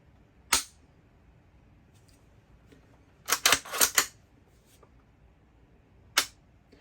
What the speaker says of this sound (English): So if I dry fire it,